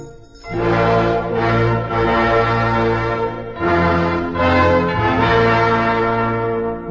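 An old bell rings out in reply, a loud, sustained, resonant tone that swells and fades in two long pulses, with no voices.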